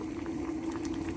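Goosegrass leaves and stems simmer in boiling water, a steady close bubbling with a low hum from the stove and no talk.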